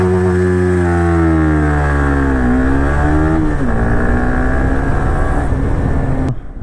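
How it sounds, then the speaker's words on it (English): A performance vehicle does a launch control start, its engine revving hard toward 12,000 RPM: a loud, close rising howl with harmonics sweeping up through shifts, then cutting off abruptly near the end. "Let's do a launch control."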